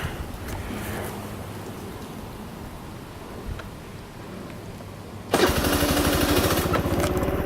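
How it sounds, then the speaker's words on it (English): A 2015 Kymco Super 8 50R scooter sits quiet amid faint background noise, then its small engine abruptly starts and idles with a loud, steady buzz for the last couple of seconds. "I had to hold the left brake and the right on, but it started right up"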